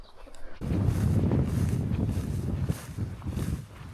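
Gusting wind buffets the microphone outdoors in Sweden in low, rumbling bursts that rise and fall, close and fairly loud.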